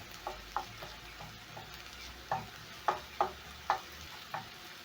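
Chopped white onion sizzles in hot oil in a pan while being stirred for a chickpea curry, giving a steady soft frying hiss broken by a series of sharp scraping spoon strokes, close and alone.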